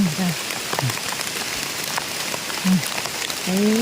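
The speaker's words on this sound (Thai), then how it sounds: "ฝนตกเนาะ" Steady rain falling during mushroom foraging in the hills of Mae On, Chiang Mai, a dense even hiss that runs throughout, with people talking under it.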